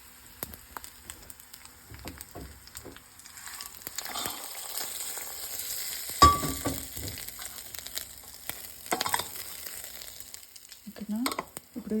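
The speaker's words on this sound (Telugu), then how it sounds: "మిక్స్చర్ని ఇప్పుడు దీంట్లో వేసి కలపబోతున్నాం" Lemon rice mixture is stirred in a pan: soft, scattered scrapes and a low frying hiss, fairly quiet, with a few louder clanks and brief sounds near the end.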